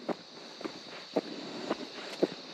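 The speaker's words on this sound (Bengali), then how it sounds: "হাঁটলে পায়ের যে শব্দ সেটার জন্য প্রকৃতির নীরবতা ভেঙে যায়।" Footsteps fall on a jungle path in Bandarban, about five soft, evenly spaced steps at a relaxed walking pace, with a faint steady cricket hum behind and no talking.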